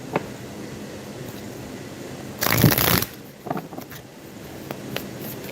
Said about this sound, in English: I will give it a few minutes and shuffle some cards.